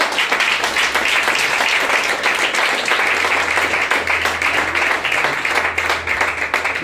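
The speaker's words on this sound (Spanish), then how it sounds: "Sí, dale ese aplauso fuerte." Loud, sustained audience applause at a church sermon, a dense, continuous roar of many hands clapping close by, with a low hum running underneath and no talking.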